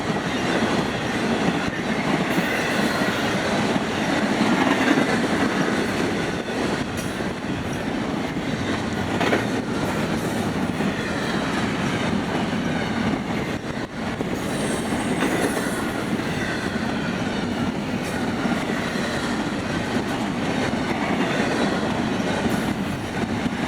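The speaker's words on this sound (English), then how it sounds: "So we should have a longer than usual train." A long Florida East Coast Railway freight train rumbles steadily past at close range, with continuous clattering of wheels on rails and occasional faint squeals, no voices.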